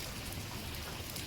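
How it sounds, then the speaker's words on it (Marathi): Heavy rain pours steadily while sheltering under a shed in a village, a dense, even hiss filling the space without break for the whole short moment. "आता पाऊस तर खूपच आहे"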